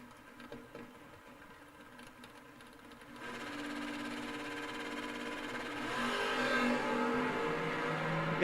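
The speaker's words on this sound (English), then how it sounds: "We got Adam Boya, dial 537, in the Camaro in the left lane" A Camaro and a little Mustang rev their engines at a drag race, a mid-pitched engine drone that grows louder partway through and swells further toward the end.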